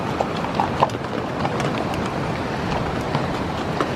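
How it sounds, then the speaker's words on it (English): A mule train walks along a hiking trail toward Bishop Pass, hooves clopping unevenly on dirt and rock at moderate distance against soft outdoor ambience. "Another mule train."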